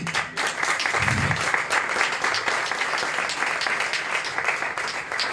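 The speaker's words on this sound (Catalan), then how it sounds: "Ell és Borja Jimeno, fort aplaudiment" An audience claps loudly for a musician at a Catalan poetry anthology launch, a dense, sustained round of applause with no speech over it.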